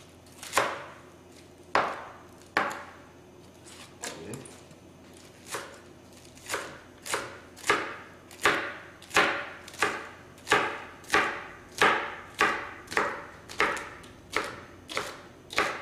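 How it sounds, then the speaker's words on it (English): A knife chopping onions on a board, with sharp thuds that start sparse and settle into a fairly steady rhythm of roughly twenty close cuts, no talking. "And let's get these onions over here. We'll cut these things off."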